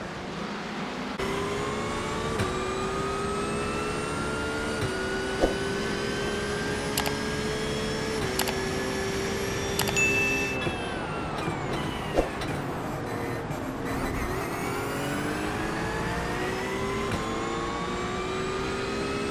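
GT3 race cars in a sim racing game surge off the line at a race start at the Red Bull Ring, several engines howling and climbing in pitch through gear changes, loud and continuous with no voices.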